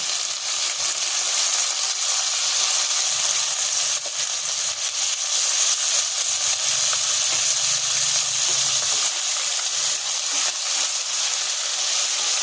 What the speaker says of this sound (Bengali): আর এই পেঁয়াজের সঙ্গে আমি একটু চিংড়ি মাছগুলোকে ভেজে নেব